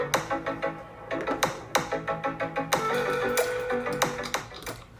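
Podcast outro music, a bright track built on quick rhythmic plucked notes and chords with a few accented hits, played alone at moderate volume.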